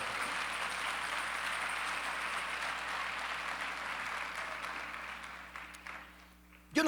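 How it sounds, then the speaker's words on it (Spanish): A church congregation applauds the Lord with a thick, steady wash of many hands clapping. It holds evenly for several seconds, then thins and fades toward the end. "tenemos que aprender a darle un buen aplauso al Señor con"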